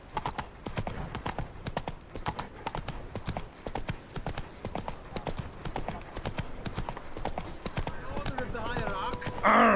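Roach, the horse in The Witcher 3, gallops with quick, steady hoof clip-clops on a hard surface, close and rhythmic, as voices talk over the running beat.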